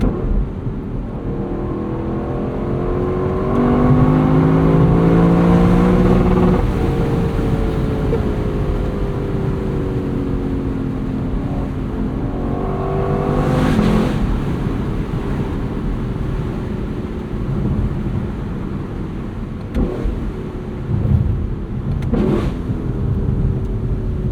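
A 2024 Lexus LC 500's 471hp V8 engine hums and revs as it drives top down, rising and falling in pitch through gear changes, with wind rushing past.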